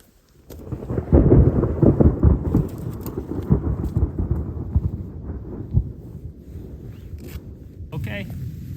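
Thunder rumbles loudly and continuously through a rainstorm on a hilly hunting property during a deer bowhunt, with rain falling steadily and some rustling nearby.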